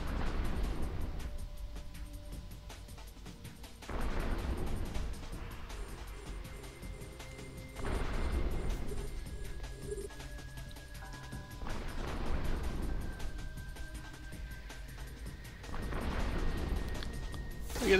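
Ship weapons fire in EVE Online during a level 2 mission, a run of booming impacts about every four seconds over a low, steady hum with faint tonal beeps, loud and without voices.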